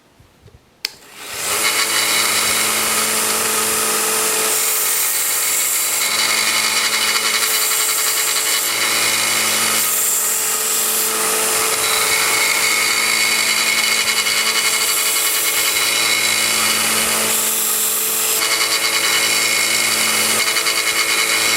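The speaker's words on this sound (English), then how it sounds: "I want to sharpen my pocket knife. I'm just going to freehand this." Vevor 1x30 belt sander used to sharpen a pocket knife freehand: the motor spins up and runs as a loud, steady whine, with the tone shifting slightly in repeated passes as the blade meets the belt.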